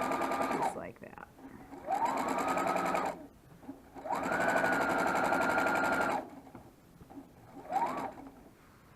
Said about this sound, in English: I'm sewing the curtain panels together. Well, not together, but I'm doing the edges on them to clean them up.